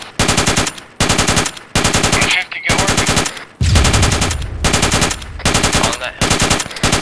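SPMG machine gun in Arma 3 firing in rapid, rhythmic bursts separated by short pauses, loud and close, with a heavier, boomier stretch of fire midway.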